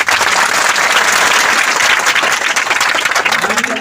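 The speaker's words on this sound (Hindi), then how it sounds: "ताली नहीं बजाना है, हमारे लोग यही तो परेशान है।" Dense applause from a rally crowd at a gathering in Jakhania, loud and steady throughout with no break and no clear speech.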